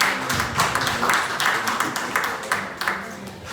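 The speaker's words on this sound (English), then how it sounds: "please give them a round of applause" Audience applause at a sickle cell health day talk, a steady patter of many hands clapping that fills the room throughout, fairly close and without speech over it.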